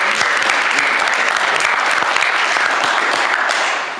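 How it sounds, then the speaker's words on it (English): An audience at a Bitcoin hackathon in Amsterdam applauds a team, dense, loud, even clapping from a full room that holds steady for about four seconds before starting to fade. "Please also give them a big applause."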